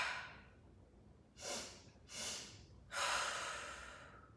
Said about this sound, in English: So we'll take a quick breath in, into the belly, into the ribs,